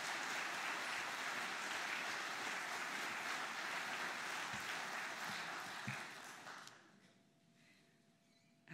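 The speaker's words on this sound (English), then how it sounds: "I'd like you to give a warm round of applause to" Warm applause from a conference audience in Torquay, a thick wash of clapping that holds steady and then thins out and dies away over the last couple of seconds.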